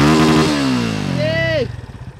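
A motorcycle engine revs loudly up close, its throaty exhaust rising and then dropping off into a choppy idle.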